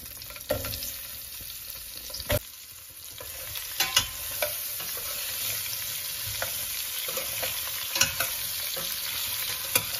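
Chopped green chillies and onions fry in a pan with a steady close sizzle, broken by occasional clicks of a stirring spoon, continuing with no talk.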